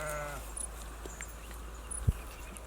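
A sheep at a shepherd's homestead gives one short, faint bleat at the very start, followed by quiet background and a soft thump.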